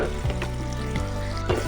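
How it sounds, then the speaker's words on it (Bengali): Garlic and two spoonfuls of chopped chilli fry in a pan for dhaba-style egg tadka. The sizzle is loud and continuous, with a few brief stirring scrapes and no talk. "দিয়ে ভালো করে ভাজতে থাকবো।"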